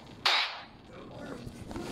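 Gunshot in a Roblox battle game: one sharp, loud crack that quickly fades into a noisy background.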